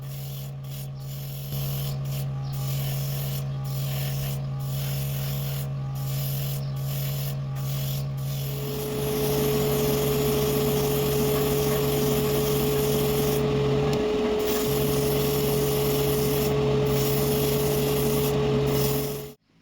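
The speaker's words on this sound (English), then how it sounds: "I am now also airbrushing all the other body pieces one by one" An airbrush at about 1.5 bar sprays grey primer onto scale model body pieces of a Liberty Walk Toyota 86. The steady hiss runs close and continuous, with a constant compressor-like hum beneath, and the spray grows louder partway through.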